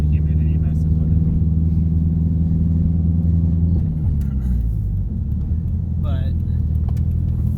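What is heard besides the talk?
car driving with Exedy twin ceramic clutch and ETS intercooler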